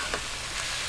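Young coconut cooking in a pan gives a short burst of soft, steady sizzling hiss, close and even, with no voices.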